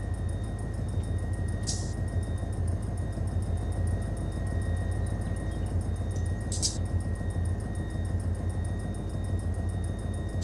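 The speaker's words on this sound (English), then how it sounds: "All right, we got four engines pumping air now." In the Run 8 Train Simulator game, four idling locomotives pump brake air, a steady low drone with a constant hiss and two short sharp air bursts spaced several seconds apart, no voices.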